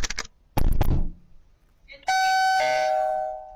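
A doorbell rings loudly with a sustained electronic chime tone lasting over a second, preceded by a few sharp knocks or bangs.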